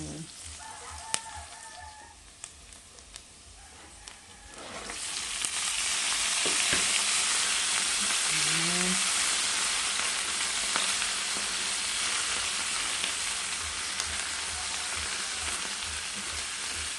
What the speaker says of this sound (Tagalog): igisa na natin yung ating hipon